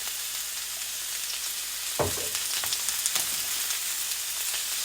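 Pepper and seasoning hit hot oil and start frying for escovitch fish, a sudden sizzle that settles into a steady crackling hiss with light stirring noises, close and alone.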